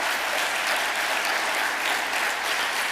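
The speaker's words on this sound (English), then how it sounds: "Yes, you can clap to that." Dense, sustained applause from an audience at a chamber of commerce diversity event, even and loud throughout with no voices on top.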